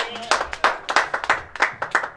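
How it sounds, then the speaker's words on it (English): Scattered hand claps at a golf season opener, a small group clapping for a golfer who won on the course, each clap sharp and distinct in an uneven rhythm, close by. "Give him a big clap"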